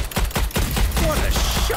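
Rapid gunfire bursts in the video game Strange Brigade, a quick series of sharp close shots with low thuds, followed by more shots and brief in-game clatter.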